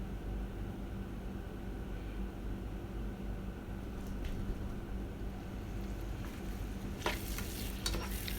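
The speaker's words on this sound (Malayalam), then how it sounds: "ഇതെല്ലാം കൂടി ഒന്ന് നന്നായി സോട്ട് ചെയ്ത് കൊടുക്കാം" Chilli chicken sauce with tomato ketchup sizzles and hisses steadily in a pan while being stirred, with sharper scraping and spattering near the end.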